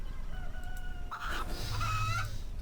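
Chickens in the RuneScape 3 video game give short clucks and a crow-like call over a steady game soundscape, with no talk.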